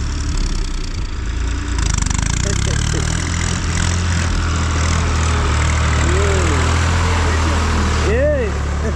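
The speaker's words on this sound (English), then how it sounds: "2 tractors, guys." Two tractors idle nearby with a loud, steady low diesel rumble throughout, while people talk over the engine noise.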